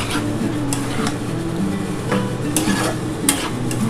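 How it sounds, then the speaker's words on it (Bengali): Prawns stirred with spices in a frying pan for chilli prawn: a steady, close, continuous sizzle with repeated scraping and stirring strokes and occasional light clinks of the utensil against the pan, no talk. "এবার ভালো করে একটুখানি সমস্ত মশলার সাথে একটুখানি নাড়াচাড়া করব"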